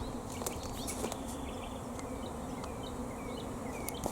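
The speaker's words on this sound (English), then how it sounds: "Oh, the bees are swarming." A swarm of bees outdoors, a continuous dense buzzing drone with individual insects passing near and away, steady and moderately loud, with faint bird chirps in the background.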